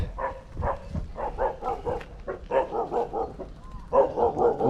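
A nearby dog barks repeatedly in a rhythmic series of yips and woofs along a path in Bang Krachao, Thailand, fairly close and clear, with brief pauses between clusters.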